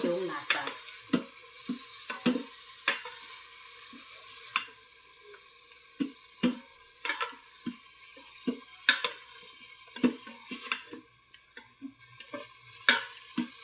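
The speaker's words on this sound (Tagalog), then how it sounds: "tapos, haluin na natin. Para kumapit yung lasa." Beef and mushroom sizzle in a pan with a steady frying hiss, while a utensil stirs and scrapes through them in frequent taps and knocks, close and moderately quiet.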